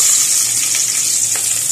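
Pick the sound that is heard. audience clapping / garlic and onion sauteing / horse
garlic and onion sauteing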